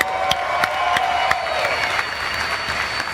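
Audience at a Dodge Challenger SRT Demon launch event breaks into sustained applause with scattered cheers and whistles, a dense wash of clapping that holds steady for about three seconds.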